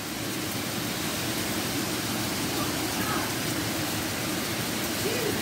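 Heavy August downpour with hail, a dense, steady roar of rain and hailstones hitting surfaces that holds at an even, loud level for the whole stretch without letting up.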